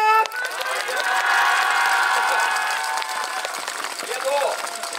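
Festival crowd at an outdoor Japanese yosakoi-style dance contest in Odawara, cheering and clapping along in a dense, continuous roar that stays loud throughout, with shouting voices mixed in.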